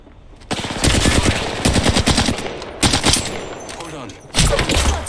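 Automatic gunfire from Apex Legends, loud repeated bursts of rapid shots with short pauses between volleys, close and dominant, with faint voice callouts mixed in.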